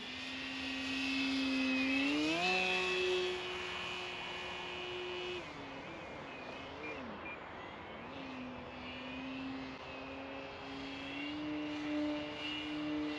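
An E-Flite Extra 300 RC plane in an upright flat spin, its electric motor whining steadily with pitch shifts and surges as the throttle changes, loud and continuous throughout with no talking.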